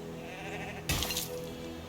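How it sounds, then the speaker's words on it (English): Sheep at a sheep farm in the Anno 1800 city-building game give a short, quavering bleat that rises clearly over soft background game ambience, heard once in the middle. "this is our sheep farm"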